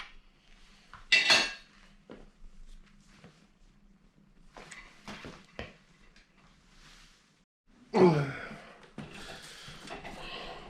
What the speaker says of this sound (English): You go back to the other side and fully tension the wheel nut.